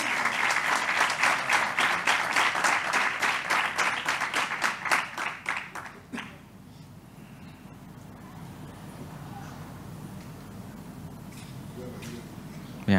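Audience clapping at a civil protection recognition ceremony: a loud, rhythmic unison applause with distinct beats for about six seconds, then it stops abruptly, leaving quiet room ambience for the rest of the clip.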